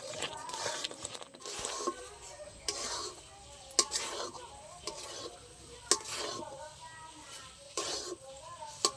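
A ladle is stirred continuously through thick milk dough in a pan while making kalakand, giving repeated scraping strokes with a soft sizzle beneath; the strokes come close and steady, without pause.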